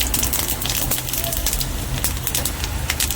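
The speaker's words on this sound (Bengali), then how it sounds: "তেল গরম হয়ে গেছে, এবার দিয়ে দিলাম 5 ফোড়ন" Five-spice tempering (panch phoron) crackles in hot oil for a crab and vegetable chorchori, a dense, steady sizzle filling the whole stretch with scattered sharp pops, close and fairly loud.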